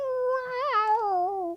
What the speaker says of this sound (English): it's not a whining cat who's upstairs. Who is meowing like he's dying.